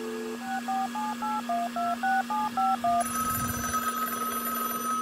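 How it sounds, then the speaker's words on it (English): A phone line tone pattern: a rapid series of about ten short beeping pulses over a steady hum, then a continuous electronic tone. "Oh, well, it's ringing again."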